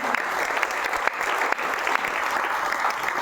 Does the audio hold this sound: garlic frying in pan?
no